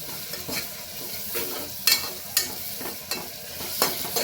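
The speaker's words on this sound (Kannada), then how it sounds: "ಅರಿಶಿನ ಹಾಕೊಳ್ಳೋದ್ರಿಂದ ಈರುಳ್ಳಿ ಬೇಗ ಫ್ರೈ ಆಗುತ್ತೆ." Onions frying in oil with turmeric in a pan, giving a continuous close sizzle with several distinct spoon scrapes and clinks from stirring, and no talk.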